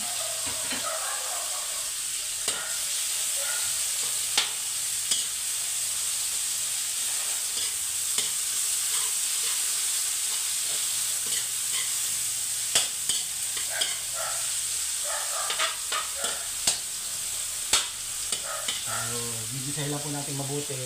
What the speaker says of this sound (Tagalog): Gigisahin lang po natin mabuti yung kamatis